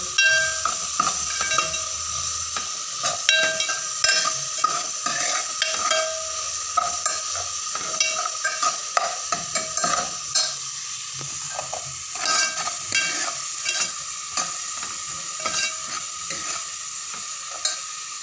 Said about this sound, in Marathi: त्यात आपण टाकतो थोडंसं मीठ चवीनुसार आणि ते आपण मिक्स करून घेऊया